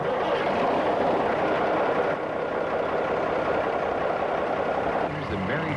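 Truck engines rumble loud and steady before daybreak, the trucks about to carry beehives, with a continuous heavy droning idle close by and a slight shift in tone midway.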